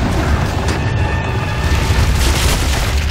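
A grenade explodes in the Gears of War video game: a loud, dense, rumbling boom that fills the whole moment, with no voices over it.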